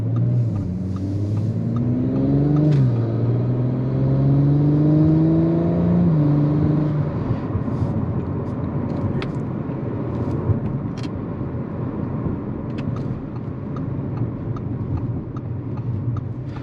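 Audi turbocharged engine revving up under acceleration, a loud continuous rising drone that climbs in pitch over several seconds, then settles into a steady rumbling roar alone.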